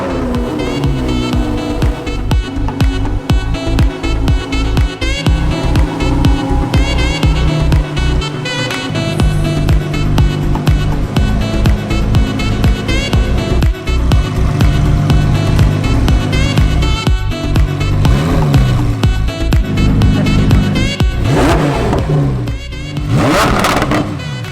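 Engine of a Lamborghini Performante running in traffic, a steady loud drone with harmonic bands shifting as it revs, continuous for the whole stretch with a brief change near the end.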